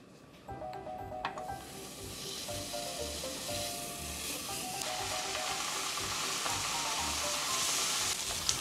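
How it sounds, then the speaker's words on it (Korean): Pork belly (samgyeopsal) sizzles in a frying pan with a loud, steady hiss that swells as the meat hits the hot surface, over a faint repeating background melody. "저 프라이팬 한번 주면 삼겹살 구워 먹게."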